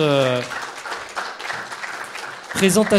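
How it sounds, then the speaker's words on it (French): A jury and audience clap after a student project presentation at an e-health awards event, a light scattered round of applause between stretches of speech at the start and end. "merci beaucoup de cette présentation qu'on peut applaudir."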